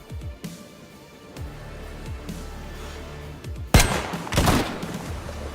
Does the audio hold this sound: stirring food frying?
no